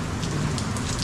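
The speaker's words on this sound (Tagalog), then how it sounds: "Tapos ganito, umuulan pa rin. May kasamang malakas na hangin." Rain falls in strong wind as a dense, continuous hiss with scattered patters, loud and close, no voices present.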